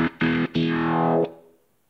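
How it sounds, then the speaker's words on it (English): Distorted electric guitar runs through a filter effect swept by a touch strip on a Guitar Wing controller in Guitar Rig, giving three loud chopped bursts whose tone shifts before a decaying tail, with no talking. "And with position, I can change the sound of the filter."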